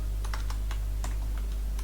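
Quick clicking keystrokes on a computer keyboard while writing JavaScript code, close and steady over a low electrical hum, no speech.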